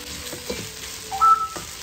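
Soaked barley is stirred in a pot with ground ginger and white pepper for a creamy barley soup, giving close, soft scraping and light clinks of a spoon against the pot, with a faint sizzle and no talking.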